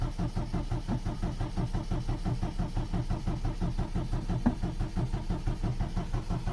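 An MG MGB GT sits running just after a cold start on choke, its engine a steady, loud, rhythmic idle thrum throughout, close by, with no talking.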